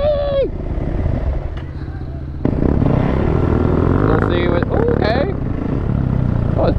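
A quad ATV engine revs steadily and then bogs down, loud and close, while people talk and shout over it.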